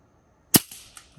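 A single sharp crack from an Edgun Leshiy 2 air rifle fitted with a shroud kit, followed by a short tail and a faint later tap, with no talking.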